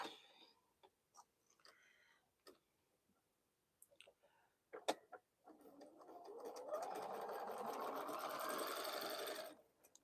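A freshly oiled domestic sewing machine stitches crumb-pieced quilt fabric, a steady close whirring run of about four seconds after a few scattered clicks and handling taps.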